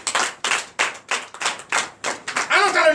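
Church congregation at a Sunday service clapping in acclamation, about eight evenly spaced loud claps in quick rhythm, then a blur of overlapping claps with a voice emerging at the end.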